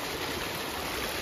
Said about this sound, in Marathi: एवढा जोरात पाऊस आला इकडे बघा